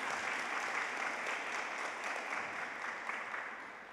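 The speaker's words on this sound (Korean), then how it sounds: "여러분 좀 박수 한번 좀 보내주시겠어요?" Congregation clapping steadily through a Sunday church service, a dense even patter of many hands with no voices, holding level for the full few seconds before easing slightly at the end.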